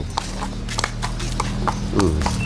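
A horse walking with steady clip-clop hoofbeats after farrier work on its shoes, heard against a constant background rumble with faint voices nearby.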